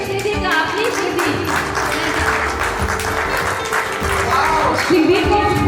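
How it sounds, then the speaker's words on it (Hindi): An audience applauds loudly for Shridi at a Samayojan gathering, with sustained clapping throughout and music and voices audible underneath. "तालियों के जोर से करेंगे श्रीदी का अपनी श्रीदी।"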